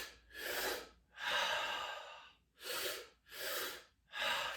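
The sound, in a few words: deep breathing in through the mouth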